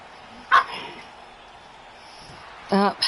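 Dogs barking and yipping in two short, sharp, loud bursts, one near the start and one near the end, with quieter background sounds and voices between them.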